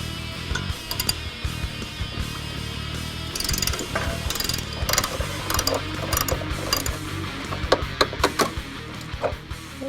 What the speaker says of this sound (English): You only need to put a wrench or socket on this bolt here.